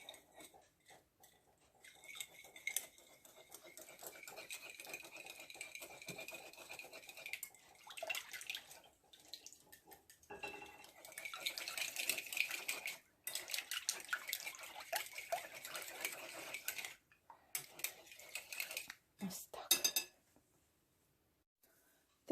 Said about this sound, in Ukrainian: Тепер добре все перемішаємо